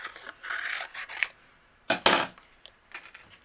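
Scissors snip through blue cardstock to cut out an egg shape, producing several short, crisp cutting strokes in two bursts separated by a brief pause. The sound is close to the microphone, and no one talks.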